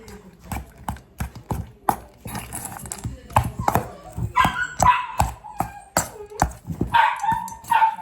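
A pet dog barks repeatedly at close range in sharp, loud bursts, with some yips and whimpers between barks, during feeding time at home.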